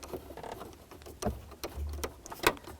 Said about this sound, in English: Take over with my flathead screwdriver.